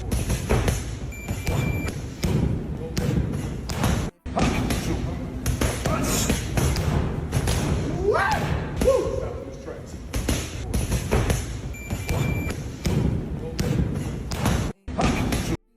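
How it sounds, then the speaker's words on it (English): Heavy boxing punches from a fight between two fighters, landing in a rapid run of dull, loud thuds and slaps, up close with crowd noise and voices underneath. "Just listen to the sound of the punches."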